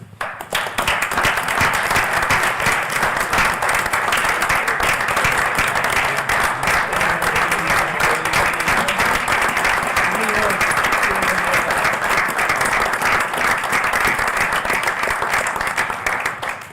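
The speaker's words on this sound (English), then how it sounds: "I just want to give them a round of applause." Sustained audience applause at a city council meeting, dense hand clapping from a roomful of people that stays loud and even for over sixteen seconds before tapering at the end.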